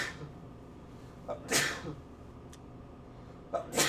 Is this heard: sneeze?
yes